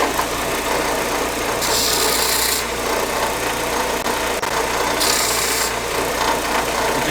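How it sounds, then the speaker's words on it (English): The sharp edge of a connecting rod cap from a 1968 Pontiac Firebird 350 engine is deburred after grinding, giving two short rasping strokes, close up, over a steady mechanical hum. "One of the last things that I always do on these is deburr this edge because you will leave a sharp edge there"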